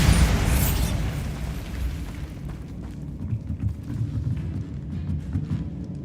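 Bombarda spell explosion in the video game Hogwarts Legacy, a loud booming blast that rolls into a low rumbling tail lasting several seconds.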